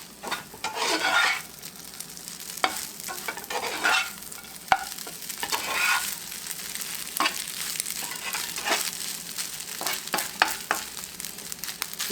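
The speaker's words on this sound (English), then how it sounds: "Now I'm going to toss it in with my bacon rice." Eggs get tossed and stirred into bacon fried rice in a hot pan, with a continuous close sizzle and bursts of scraping and stirring, no talk.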